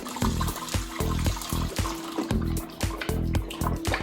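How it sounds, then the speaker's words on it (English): Homemade limoncello is poured into bottles, a close gurgling, glugging flow of liquid with irregular splashes and knocks throughout. "now I just keep filling them, and hopefully I have enough liquid here to fill the 4 containers that I have"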